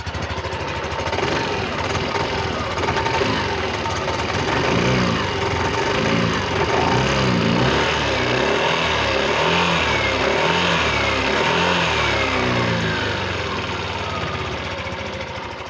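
Yamaha NMAX 155 scooter engine running steadily and revving up and down in repeated swells, loud and close throughout with no talking.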